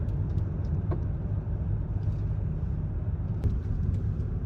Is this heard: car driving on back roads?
yes